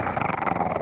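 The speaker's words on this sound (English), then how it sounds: "Arwen, you could ask him to growl this morning." A dog gives a low, continuous rumbling growl at close range, steady and fairly loud with a slightly pulsing texture, without speech.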